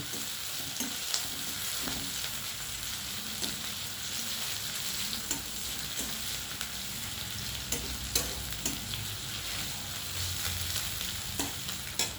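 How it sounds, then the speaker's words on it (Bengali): Onions frying in a pan for an egg and roasted brinjal curry, a steady close sizzle with occasional sharp crackles and stirring scrapes, no voices. "পেঁয়াজটা লাল লাল করে ভাজা ভাজা করে নিচ্ছি।"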